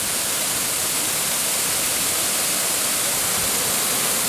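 Heavy, continuous roar of a monsoon-season waterfall spilling across a Himalayan trail, a dense broadband rush that stays steady and loud throughout with no voices.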